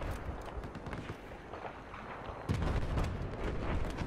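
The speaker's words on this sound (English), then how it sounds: "I'm gonna keep shooting!" Heavy gunfire and blasts in the shooter game Battlefield 4 make a dense, continuous roar that swells into a louder burst partway through, with no voices.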